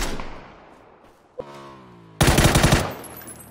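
Rifle shots in a shooter game, with a sharp single crack followed by a loud, rapid burst of gunfire close up, and no voices.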